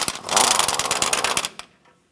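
A 13mm socket wrench with extension turning out the forward bolt on an engine mount bracket of a 1994-2004 Chevrolet S10, a loud rapid ratcheting clatter for about a second and a half, then one last click and silence.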